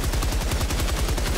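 Machine gun in Helldivers 2 firing a rapid, evenly spaced burst of loud shots, sustained without pause and close up.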